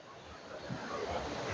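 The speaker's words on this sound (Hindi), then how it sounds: "फाइनली हम अम्ब्रेला वाटरफॉल पहुंच गए हैं।" Umbrella Waterfall in Pakistan sends out a continuous, even roar of rushing water, a broad hiss that swells slightly with some wind buffeting close to the listener.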